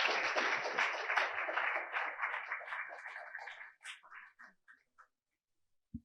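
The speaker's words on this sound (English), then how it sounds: "So let's give her again a great round of applause." An audience at an IEEE Jamaica conference session claps in sustained applause that dies away over a few seconds into scattered last claps, ending in near silence.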